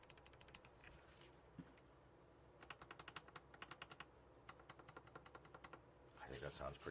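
A KBMG68Pro (FK680 Pro) mechanical keyboard, freshly lubricated, typed on in quick bursts of close, crisp clicking keystrokes over faint room noise and soft talk.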